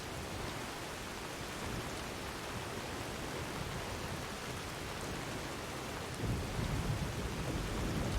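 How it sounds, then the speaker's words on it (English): Heavy rain pours down steadily during a thunderstorm in Skyrim, with a modded weather setting. A deep rumble of thunder swells over the hiss of the rain in the last couple of seconds, and no one speaks. "Nice thunder."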